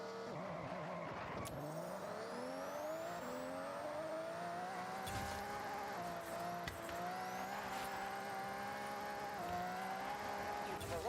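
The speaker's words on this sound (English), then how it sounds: "When its launch control makes it sound like it shits itself catching grip." A car in the Forza Horizon 6 racing game using launch control, its engine holding a steady strained drone while the tires squeal and chirp for grip, with rising pitch sweeps and abrupt shifts through the run.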